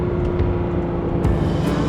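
Engine of a Porsche Cayman or Boxster 987 running, a steady loud rumbling drone with a constant low hum throughout, no speech over it.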